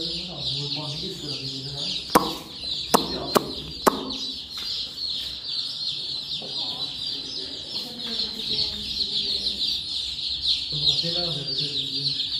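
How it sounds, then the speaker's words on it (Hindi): Colorful chicks peep steadily in a high, dense chorus close by, with a few sharp knocks early on and people talking over them. "काफी सारे चिक्स पीछे भी, वो कितने क्यूट लग रहे"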